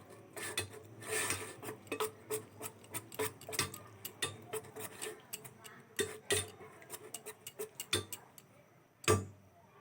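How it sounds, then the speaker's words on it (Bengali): Semolina stirred in a bowl with a metal spoon, giving repeated close scraping clinks and taps in an uneven rhythm, with faint speech now and then. "এবার সুজিটাকে ভালো করে নেড়ে দেব"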